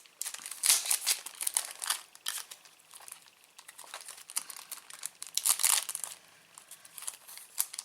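Transparent sticker sheets are crinkled and torn by hand, bright crackling rustles coming in uneven bursts with quieter gaps, close and fairly loud.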